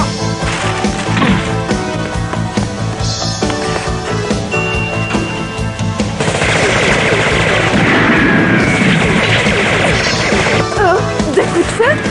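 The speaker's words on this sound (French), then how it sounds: "Des coups de feu?" Gunfire rings out during an action film scene, with sharp crashing shots and bursts layered over music and other effects, loud and sustained throughout.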